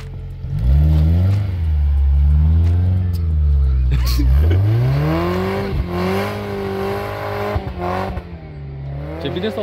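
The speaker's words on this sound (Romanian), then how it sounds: "Ce bine se aude motorul." A Suzuki Samurai engine revs loudly and up close while driven in the snow, rising and falling through several strong revs with a gear change partway through.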